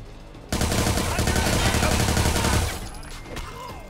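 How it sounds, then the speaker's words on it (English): Loud, dense bursts of automatic gunfire in a video game firefight, sustained for about two seconds and then tapering into scattered shots and background noise. "We have no choice but to return fire."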